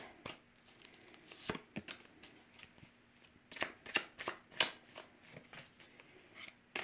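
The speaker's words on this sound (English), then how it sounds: "Since I have already announced I'm cutting the deck" A tarot card deck being shuffled and cut by hand, close and quiet, with a series of irregular crisp riffling flicks and soft slaps of cards, more frequent in the second half, no talking.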